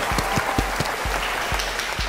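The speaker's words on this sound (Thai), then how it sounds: "เสียงปรบมือต้อนรับ" Studio audience applause welcoming a guest onto a Thai entertainment show, a steady burst of many hands clapping throughout.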